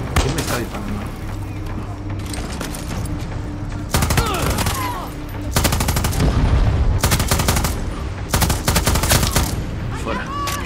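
Gunfire aimed at the player in Far Cry 6, heard as bursts of rapid machine-gun and rifle fire that grow denser and louder in the later seconds, with booms mixed in and a voice talking underneath.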